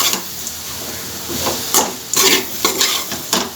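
Grated coconut stirred and sautéed into a raw jackfruit poriyal in a pan, with steady soft sizzling and repeated scraping strokes of a spoon against the vessel, close and fairly loud, no voices.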